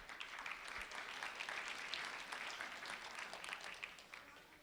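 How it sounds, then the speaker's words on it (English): Faint, distant audience applause as a crowd claps for an honoree at a sheriff's office recognition, a steady wash of many hands lasting several seconds with no voices on top. "A round of applause for Elena"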